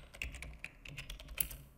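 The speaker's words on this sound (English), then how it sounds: "you simply need to do that by typing pip install" A command is typed on a computer keyboard: a faint, close patter of irregular keystrokes with a few sharper clicks, heard alone without talk.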